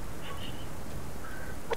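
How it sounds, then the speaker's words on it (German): Chickens cluck softly in the survival video game Subsistence, a few faint calls over a low steady background hum. "Na gut, unsere Hühner noch mal kurz gucken."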